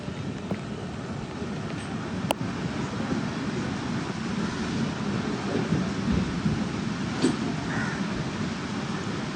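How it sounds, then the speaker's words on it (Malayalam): Steady heavy rain roars throughout at a railway station platform in Thrissur, Kerala, with a low rumble of thunder and a few sharp crow caws breaking through. "നല്ല മഴയാണിപ്പോൾ."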